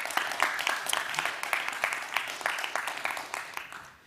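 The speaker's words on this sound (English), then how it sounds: "Give a massive round of applause to Marloes." A live audience claps at a TEDx climate conference event, a dense, steady patter of many hands lasting several seconds and slowly fading toward the end, with a voice faintly mixed in.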